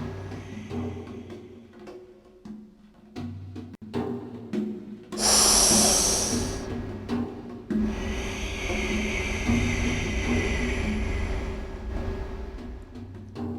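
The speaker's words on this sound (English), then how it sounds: "Exhale through the left." Breath is pushed out through one nostril during yoga breathing practice, heard as a strong close-up rushing exhale followed by a long, steady airy whoosh, with softer breaths and small rustles before it.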